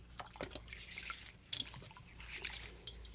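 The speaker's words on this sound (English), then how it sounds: "Try to hear the water." Water trickles and drips steadily at close range during a rose healing ceremony, with a few sharper splashy drops breaking through the soft, continuous liquid sound. No one speaks.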